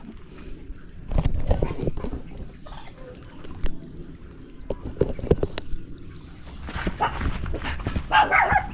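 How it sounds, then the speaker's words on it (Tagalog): Puppies barking at a breeder's place give scattered, sharp yaps and bursts spread across several seconds, mixed with knocking and scuffling noises and some faint background voices. "May mga tuta kayo."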